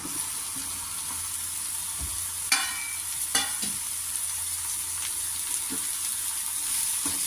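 Chopped ridge gourd sizzles in hot oil with softened onions in a pan, a steady hiss broken by a few sharp scrapes and clacks as the mixture is stirred.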